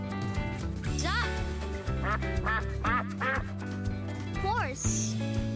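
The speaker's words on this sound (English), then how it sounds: "Duck." A duck quacks in a children's animal-sound nursery rhyme, with repeated nasal quacks in short bursts over continuous cheerful music.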